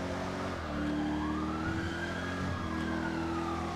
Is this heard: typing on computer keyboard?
no